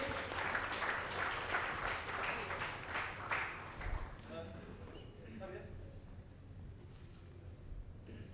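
Crowd applause at an awards ceremony rolls steadily for about four seconds, then thins and dies away, leaving quieter room noise and faint voices.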